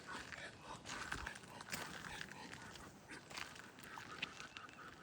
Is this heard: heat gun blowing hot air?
no